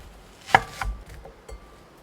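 Knife cutting vegetables into thin strips on a board, a few sharp close chops spaced irregularly against a quiet background.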